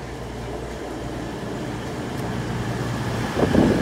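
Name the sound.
CrossCountry train at Bristol Parkway station in rain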